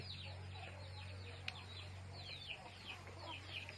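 Native village chickens cluck in a farm coop, quiet and somewhat distant, with short repeated calls over a low steady hum.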